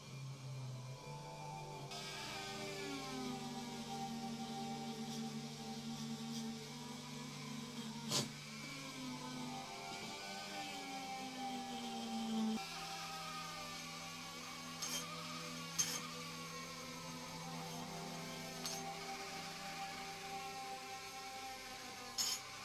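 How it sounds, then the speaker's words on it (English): A rotary wire brush attachment whirs steadily as it strips paint from a Corgi Ford Thunderbird diecast model car, a continuous high-pitched grinding whine with shifting pitch and a few brief sharp bumps, up close with no talking. "it only comes away when I go over it with the wire brush attachment"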